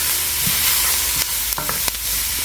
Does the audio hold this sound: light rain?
no